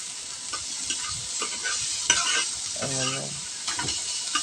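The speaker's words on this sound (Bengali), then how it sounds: "শাক ভাজা কিন্তু অলরেডি হয়ে গেছে" Data shak leafy greens frying and sizzling in a pan, a steady close hiss with scraping stir strokes and a short clatter of the spatula partway through, no talking.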